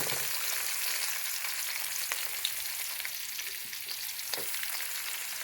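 Onion and green chilli sizzling with cumin seeds in a hot pan, a steady close crackling fry with occasional sharp pops and faint stirring, no voices.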